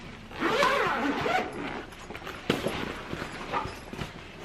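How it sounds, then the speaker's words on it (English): The bottom compartment zipper of a Beis Weekender bag is pulled open in one quick raspy run, followed by softer handling rustles and light knocks of the fabric. "And when you unzip it"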